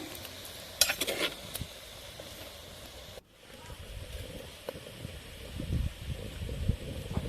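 A utensil scrapes and clinks against a pot as salted bottle gourd kootu is stirred, with soft sizzling and a voice speaking at times.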